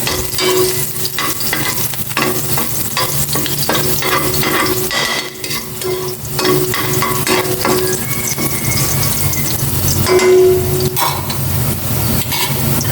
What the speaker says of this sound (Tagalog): Mainit na itong kawaling may mantika. Magisa na ako ng bawang.